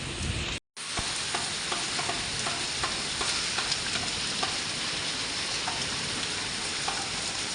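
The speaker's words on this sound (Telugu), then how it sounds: "చాలా గట్టిగానే పడుతుంది వర్షం అయితే." Heavy rain pours steadily on a village day, a dense unbroken hiss with scattered drop taps, close and loud, broken only by a brief moment of silence near the start.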